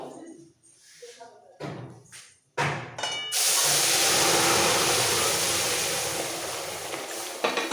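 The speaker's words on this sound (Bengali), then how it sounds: "ফোড়নের সুন্দর গন্ধটা বেরিয়ে গেলে এর মধ্যে পুরো ডালটা ঢেলে দেবো" Dal is poured into a hot tempering in a pressure cooker for sour dal with raw mango. A few quiet thumps and brief talk come first, then a sudden loud hissing sizzle that holds steady and slowly fades.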